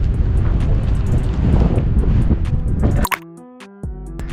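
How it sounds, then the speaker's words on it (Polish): Strong wind buffets the microphone in a loud, continuous roar for about three seconds, then cuts away to quieter sounds. "Ale wiatr!"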